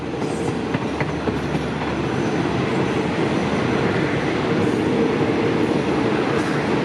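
Trang–Bangkok southern line passenger train passing Bang Son stop in Thailand, a steady loud rumble of rolling wagons with faint clickety-clack of wheels over rail joints throughout, no voices.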